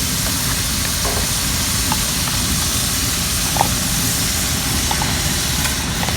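Ground egusi melon frying in a pan as it is stirred in a village kitchen, a steady loud sizzle and hiss with a few faint scrapes of the spoon, continuous and close with no voices.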